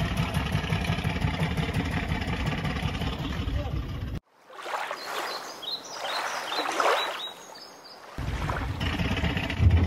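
A loud, steady boat engine drone towing a Com-Pac 23 sailboat, cutting out for a few seconds while people talk over wind and water, then returning.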